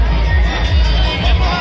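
Dense festival crowd at a Shivratri celebration, a steady loud hubbub of many voices with some cheering, continuous throughout with heavy low rumble.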